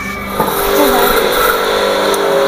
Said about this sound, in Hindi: कचरा गाड़ी